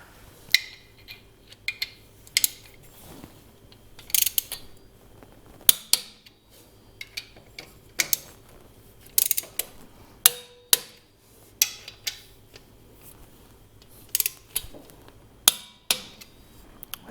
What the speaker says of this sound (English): We're going to go ahead and torque the bolts.